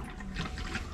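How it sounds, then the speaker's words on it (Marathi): Water trickles slowly out of a pipe used for watering trees, a soft, steady, close wash of running water with no talking. "इथे तुम्हाला दाखवतो बघा पाणी बघा किती स्लो येतो बघा"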